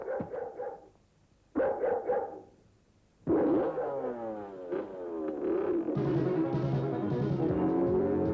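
A dog barks in short bursts, then lets out a longer run of whining, growling vocalizations that build up, fairly close by with no talk over it.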